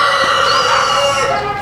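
Farmyard chickens cluck and a rooster crows, loud and close, in a continuous dense layer of poultry calls filling the whole stretch with no talk over it.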